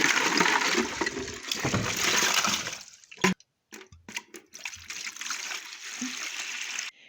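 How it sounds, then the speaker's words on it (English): Water pours and splashes steadily into a goat's water container on a farm, breaks off with a few knocks and trickles, then a gentler stream resumes. "The goat water is pretty dirty, so I'll refill that."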